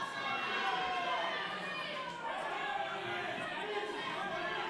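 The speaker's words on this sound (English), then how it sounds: "They're absolutely exhausted from screaming so hard for this fight." Crowd at a women's heavyweight professional boxing title fight in a stadium: a steady, loud wash of chatter, shouting and cheering goes on throughout, with a commentator's voice talking over it.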